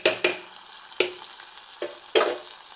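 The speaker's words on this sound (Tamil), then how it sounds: "இப்போ தாளித்து போட்டுடலாங்க." Spices for tempering crackle in hot oil for a vegetable kootu, with several sharp pops and bursts spread over a softer background sizzle, close and without speech.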